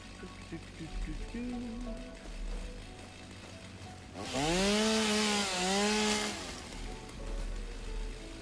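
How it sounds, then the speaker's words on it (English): A chainsaw in the video game Satisfactory cuts through wood, its engine whining and bending in pitch for a few seconds. Quieter game sounds come before and after the loud burst. "It's just so much faster to use a chainsaw."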